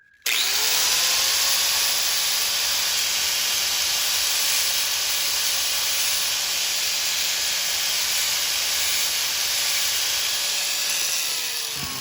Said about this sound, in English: I'm going to hit it with a grinder